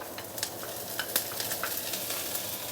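Vegetables fry in a wok with browned garlic, giving a steady, dense sizzle with light scraping and stirring clicks throughout, close and continuous, with no voices.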